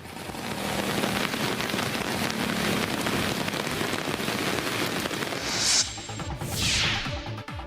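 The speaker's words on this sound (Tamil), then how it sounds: "திருப்பத்தூர் மாவட்டம் ஆம்பூர் மற்றும் அதன் சுற்றுவட்டார பல்வேறு பகுதிகளில் கனமழை பொழிந்தது." Heavy rain pours steadily over Ambur in Tirupattur district, a dense, continuous hiss of water hitting surfaces that stays loud and even throughout.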